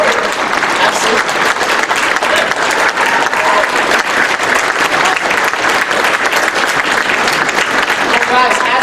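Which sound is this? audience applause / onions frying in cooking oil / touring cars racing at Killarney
audience applause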